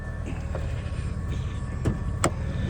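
A motorized automatic seatbelt in a 1991 Plymouth Laser RS whirs along its track inside the car, a low motor hum ending in a couple of sharp clicks near the end.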